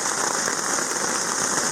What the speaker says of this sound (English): And now it's raining cats and dogs.